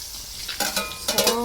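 Hotdogs frying in a pan, with bursts of sizzling and stirring that rise in two close waves over a low background hiss.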